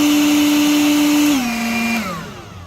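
A Powersmart 40V cordless leaf blower whines loudly on turbo with a steady high motor tone, then steps down in pitch twice as it winds down toward the end.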